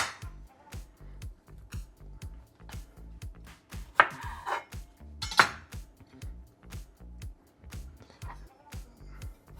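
Knife chopping strawberries on a cutting board in a kitchen, a steady run of quick close thuds with a couple of louder clinks from utensils, no voice over it.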